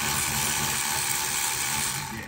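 Ratchet wrench backing out the last mirror bolt inside a Subaru door, a fast, continuous buzzing click close by, steady for about two seconds before trailing off.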